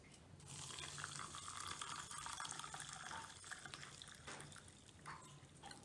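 Sorrel drink is poured from a container into cups, a steady trickling liquid stream with slight splashing that eases near the end, fairly quiet and close, with no speech.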